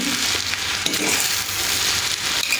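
Mung bean pulao is stirred in a pan with a steady frying sizzle and scattered soft scrapes and clicks of the spoon, close and continuous without talking.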